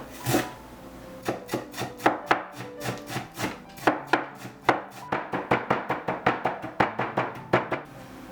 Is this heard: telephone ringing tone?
no